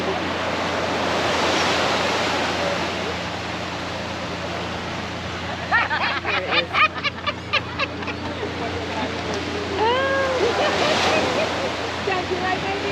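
Surf washes steadily onto Jolly Beach, Antigua, a continuous rushing roar mixed with wind buffeting the microphone, while people talk briefly partway through.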